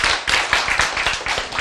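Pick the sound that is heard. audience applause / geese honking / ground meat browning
audience applause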